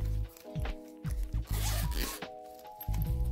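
Zipper on a stationery pencil case being drawn open in several short rasping pulls, close and fairly loud, with a steady tonal hum in the background and no talking.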